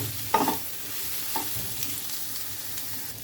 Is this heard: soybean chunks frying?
yes